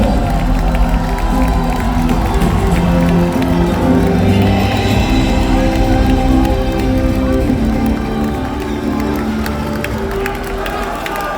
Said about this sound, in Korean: 박수 보내주십시오.